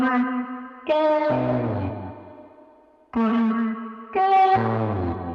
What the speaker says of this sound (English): I threw it through some trash, some reverb, some vinyl